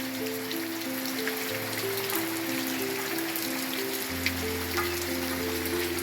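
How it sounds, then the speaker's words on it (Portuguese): Steady rain falls in the countryside at a house by a small lagoon, a soft even hiss of drops on surfaces over a low background hum, moderately quiet and unbroken. "Aqui é a chuva aqui na lagoinha."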